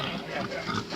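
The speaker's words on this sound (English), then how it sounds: "except your pigs, and they got to be fed right now" Pigs on a farm oink and grunt in a short, close burst, dense and continuous over a noisy background.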